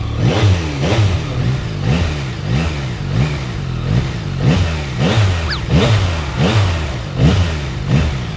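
A 2025 Yamaha MT-09SP naked motorcycle engine revs repeatedly in quick, even pulses, each throttle blip swelling and dropping in a steady rhythm, loud and close with no talk over it.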